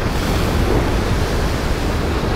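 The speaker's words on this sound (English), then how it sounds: "The sea down there, and the sea and rocks down there." Sea waves breaking on rocks at the foot of steep coastal cliffs near a blowhole, heard from the clifftop as a continuous loud roaring wash mixed with wind buffeting the microphone.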